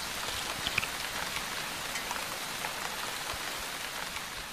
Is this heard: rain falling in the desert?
yes